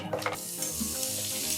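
Garlic fries in a generous amount of oil in a pan, giving a soft, steady sizzle with faint crackles, heard close but quiet.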